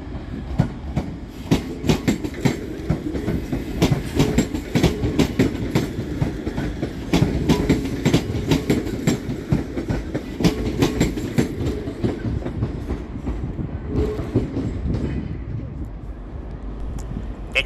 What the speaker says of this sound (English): Departing next with the 1526 ScotRail service to Glasgow Central via Shotts is